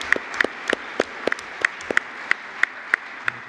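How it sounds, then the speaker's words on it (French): Sparse, regular claps from a small audience at a formal ceremony, sharp individual hand claps spaced evenly in a slow rhythm with no voices. "On peut les applaudir aussi."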